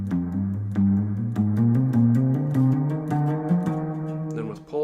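Guitar line played by alternately picking and hammering on pairs of notes while shifting up the neck, a steady stream of clean, close single notes with soft attacks between the picked ones.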